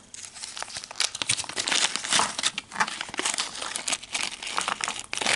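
Plastic bags of vintage costume jewellery salvaged from a dump crinkle and rustle continuously as they are handled up close, with dense crackling bursts throughout.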